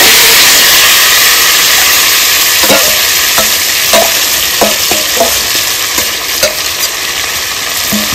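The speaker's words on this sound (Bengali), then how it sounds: "এই মাছটা 2 মিনিট ধরে একটু ভেজে নেবো ভালো করে, এইভাবে কষানো মতো করে নেবো" Marinated live rithe fish fries loudly in hot mustard oil with dried red chilli and whole cumin, a dense roaring sizzle up close, with a run of irregular spatula clicks and scrapes as it is tossed.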